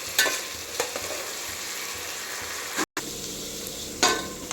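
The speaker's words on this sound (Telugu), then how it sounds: "సో వీటిని ఆలూస్ని మంచిగా దూరగా వేయించుకోవాలండి." Potatoes frying in a pan for alu dum biryani, a continuous close sizzle broken by periodic spatula scrapes and one brief dropout.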